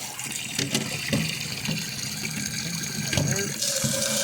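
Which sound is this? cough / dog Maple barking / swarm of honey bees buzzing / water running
water running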